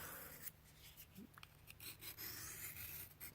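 A knife edge is stroked across a small fine Arkansas pocket stone, producing soft, close scraping and rubbing strokes in an irregular rhythm, fairly quiet, with no talking.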